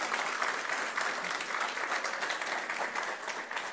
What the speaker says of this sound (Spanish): Él es el fuerte aplauso al Rey de Reyes